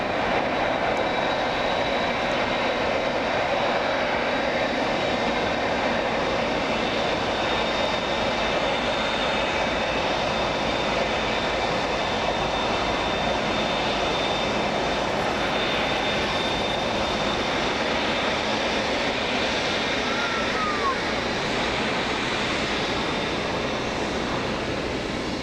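An Airbus A380's jet engines roar at LAX, a loud, steady broadband rumble with a faint high whine that holds throughout with no voices.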